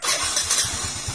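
Kawasaki Fury 125 motorcycle fired up on one press of a new starter motor: a quick cranking whir that catches into a steady, throbbing idle, close and fairly loud, with no talk.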